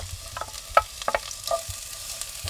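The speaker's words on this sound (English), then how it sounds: "we're going to saute the onions" Onions saute in a Petromax pan on a Kamado Joe grill, with a faint low sizzle and a few light clinks and scrapes of stirring, no voices.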